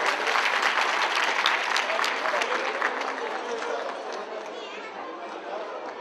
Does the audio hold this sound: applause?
yes